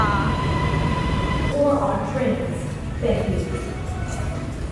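Third-class train pulling into a station in Thailand, a steady loud rumble with brief squealing tones, heard under nearby talking and station bustle.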